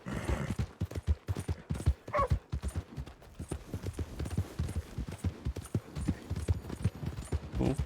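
Horse hooves clip-clop rhythmically in the Red Dead Redemption 2 video game. The steady, close trot runs the whole time with no voice over it.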